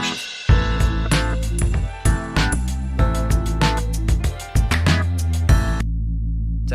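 Dark distorted bass synth in a beat, punchy repeated hits with drums and gritty saturated low end, loud and continuous with brief dropouts before cutting to a sparse tail.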